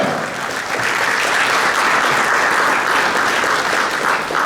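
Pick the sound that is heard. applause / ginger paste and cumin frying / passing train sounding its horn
applause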